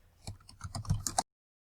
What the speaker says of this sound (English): Okay, so I went ahead and I typed my answer